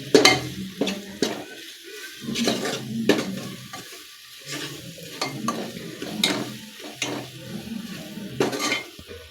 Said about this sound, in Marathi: आता हे मसाले आहेत ते आपण लो गॅसवरतीच दोन ते तीन मिनिट छान परतून घेऊया